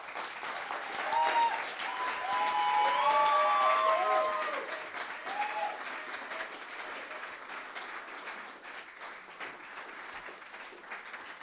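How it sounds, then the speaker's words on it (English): Audience applauding the candidates after a debate between Kimberly Ellis and Eric Bauman; loud, sustained clapping from a crowd that peaks early and then slowly fades, with excited voices rising over it partway through. "Round of applause for the candidates."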